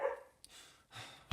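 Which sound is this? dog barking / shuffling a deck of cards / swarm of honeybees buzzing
dog barking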